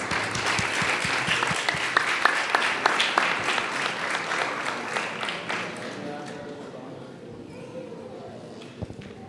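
A church congregation at a thanksgiving first Holy Mass claps in welcome for a priest, dense applause that stays strong for several seconds then thins and fades out.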